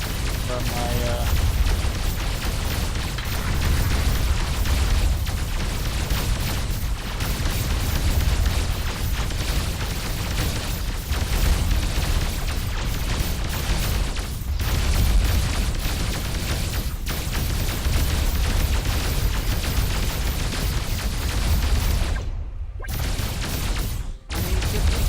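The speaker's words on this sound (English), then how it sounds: "Enemy ship destroyed." Enemy warship exploding in the naval battle game Dreadnoughts, a dense, continuous roar of booming blasts and rumbling combat noise sustained at high level, with voices talking over it.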